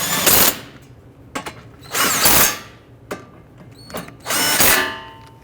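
A power tool tightens bolts on a Dodge Charger steering knuckle in three loud bursts of whirring and ratcheting, separated by brief clicks and clanks of metal handling up close.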